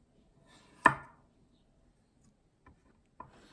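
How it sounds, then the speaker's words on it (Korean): A knife cuts through cucumber on a cutting board, making one sharp, loud chop followed by two fainter taps later in an otherwise quiet kitchen. "오이를 손질해 보겠습니다"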